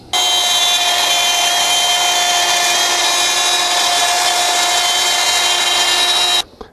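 A wood router guided on a large circle jig cuts an arc, running as a loud, steady high-pitched whine from start to finish before quickly spinning down at the end.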